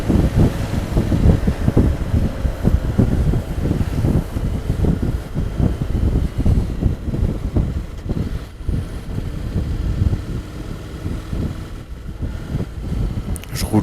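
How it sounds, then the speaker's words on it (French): Wind buffets the microphone while riding a 2017 Honda X-ADV scooter, a loud, continuous low rumbling roar with gusty fluctuations throughout. "Le vent, je trouve pas ça vraiment gênant."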